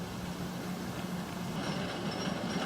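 A roller coaster train runs at the Alabama Adventure amusement park, a steady low rumbling roar with a faint metallic hum, holding at a constant level throughout.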